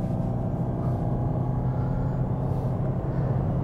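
A 2016 Toyota Prius hybrid accelerating hard in power mode, heard from inside as a steady, loud low rumble of engine and road noise that holds without a break.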